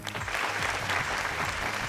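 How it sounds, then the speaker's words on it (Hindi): A studio audience at a classical-themed dance reality show applauds loudly for the judges on stage, a dense continuous burst of clapping with no talk. "तो हमारे गुणी जजेस के लिए एक बार जोरदार तालियां हो जाए।"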